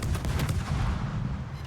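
Warships trade gunfire in a naval video game, loud booming shots crowding together in a dense burst that fades to a rumbling tail.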